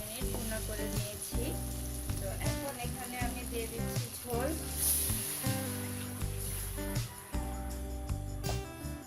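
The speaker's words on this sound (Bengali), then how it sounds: "আর এই আলুটাকে আমি এখন দুই মিনিটের মতো ভুনা করে নেব" Potatoes fry with spices in a pan for a Bengali hilsa fish and okra curry, giving a continuous sizzle under steady talking throughout.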